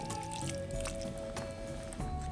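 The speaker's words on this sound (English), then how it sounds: "we're gonna return the meat to the pot. And we stir it back into the sauce." Short rib meat being stirred back into ragu sauce in a pot gives wet squishing and dripping sounds over a steady background hum, close and continuous with no talk.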